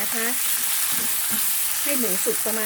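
Pork bones stir-fried in a hot pan for a Thai khua kling dish, an even sizzle running throughout with soft scrapes of stirring, while a faint background voice and tonal sounds pass over it.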